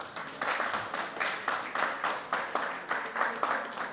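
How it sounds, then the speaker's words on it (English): Applause from an audience, a steady run of clapping in rhythmic bursts, moderately loud and fairly close, with no voices over it. "Thank you for the applause."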